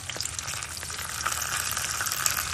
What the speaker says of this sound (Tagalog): Ito yung ayaw ko sa lahat. Pumiputok eh. Paminta.